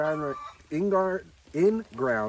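Chickens clucking in a backyard compost area beside a garden, several drawn-out tonal clucks in quick succession, fairly close and clear.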